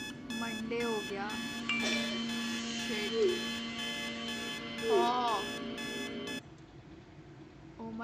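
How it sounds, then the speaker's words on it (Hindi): An alarm clock in a short horror film rings with a steady, rapid pulsing beep that goes on for several seconds before cutting off. A person talks over it briefly. "उसका अलार्म बजे जा रहा है"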